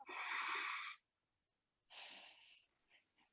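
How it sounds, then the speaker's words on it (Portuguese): Ujjayi breathing drawn in and out through the nose with a constricted throat, two long hissing, wave-like breaths separated by a pause, close and clear with no talking. "a gente contrai a nossa garganta, contrai a nossa glote e respira só pelo nariz"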